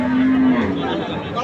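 A cow gives a short, deep moo up close at a busy cattle market in Raniganj, north Bengal, ahead of Eid al-Adha, amid crowd murmur and nearby voices.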